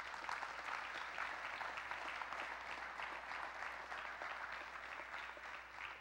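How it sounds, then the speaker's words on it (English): A church congregation applauds at a graduation Sunday service, a steady, dense wash of clapping from many hands that holds evenly throughout without a break. "Let's give him a round of applause."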